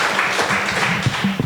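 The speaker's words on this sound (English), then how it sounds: "Let's clap." A short burst of audience applause after a lightning talk at a tech event, a dense wash of clapping from a crowd, moderately loud and continuous with a faint voice underneath.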